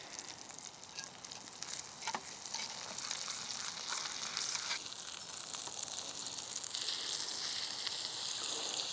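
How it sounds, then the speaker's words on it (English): Meat sizzles steadily in a hot pan over an open camp fire, a dense, even frying hiss that holds close and loud throughout with a faint clink or two. "Sizzling meat"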